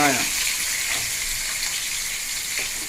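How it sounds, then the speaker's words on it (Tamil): Onions frying in a pan for a chicken gravy, giving a steady, bright sizzle throughout with a few soft stirring scrapes, close and fairly loud, and no talking. "வெங்காயம் போட்டு நல்லா பொன்னிறவில் வரணுங்க"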